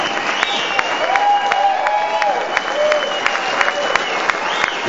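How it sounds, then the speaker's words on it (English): An audience applauds songwriters at a party event, sustained clapping and crowd noise with a few cheers, steady and fairly close for the whole stretch. "These guys deserve a big, nice round of applause for their talents and everything they've done."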